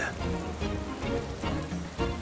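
Rain falls steadily, a faint, even patter on a surface with soft swells in intensity and no speech.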